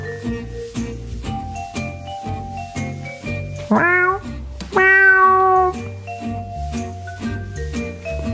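Cartoon kitten meows twice, loud and drawn-out with sliding pitch, over a bouncy music track with steady rhythmic notes.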